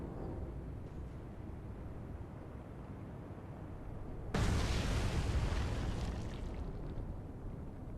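In the naval game Atlantic Fleet, a torpedo strikes a ship with a sudden, heavy blast midway through, leaving a roaring rumble that slowly fades under low background noise.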